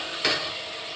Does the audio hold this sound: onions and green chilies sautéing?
yes